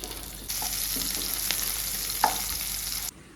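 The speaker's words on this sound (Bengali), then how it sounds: "এরপরে দিয়ে দিচ্ছি কালো জিরে এরপরে দিব হচ্ছে পেঁয়াজ কুচি" Nigella seeds and chopped onion sizzle in hot oil in a wok, a steady close frying hiss with a few small pops and stirring clicks, then the sizzle abruptly drops away near the end.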